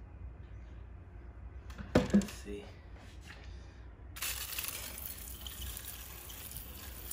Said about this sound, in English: So now I'm about to do just wet the terrarium in case he's thirsty.